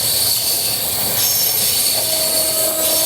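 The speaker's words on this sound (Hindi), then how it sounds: "ये लो, हम वापस से पैरेलली ओवरटेक कर रहे हैं ज्ञानेश्वरी को" Train rushing past on a parallel track while riding aboard an Indian express train near Mumbai, with loud continuous rail roar, hiss and a faint wheel squeal, close and steady for a few seconds.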